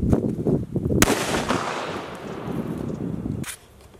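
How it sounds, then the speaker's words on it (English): A single sharp gunshot from a short-barreled .223 rifle fired at ballistic gel at 10 yards, a loud crack followed by a long decaying echo, preceded by indistinct background sounds and with no talk. "That first shot was actually surprising to me."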